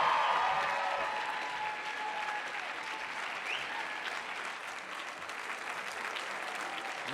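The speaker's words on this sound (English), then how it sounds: "we welcome your applause for the entire graduating class of 2014." Sustained applause from a large commencement crowd for the Claremont McKenna College graduating class of 2014, steady and dense throughout, loudest at the start and easing slightly, with a faint murmur of voices beneath.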